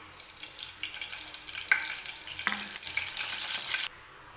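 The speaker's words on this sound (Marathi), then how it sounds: "तेल गरम करून घ्यायचं व्यवस्थित" Oil heating in a kadhai for sabudana khichdi, a close crackling sizzle that builds steadily louder over a few seconds, with scattered sharp pops and a scraping stir, then cuts off abruptly.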